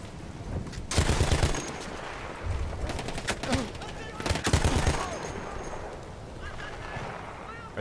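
Battlefield 1 gunfire crackles in two loud bursts and scattered shots, with a voice speaking between and over the shooting.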